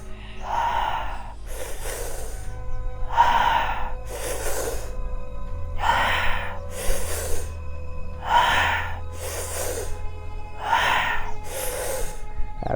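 Deep breathing during a guided breathing meditation: slow, loud, close inhales and exhales alternate in a steady rhythm, about five full breath cycles with short pauses between them.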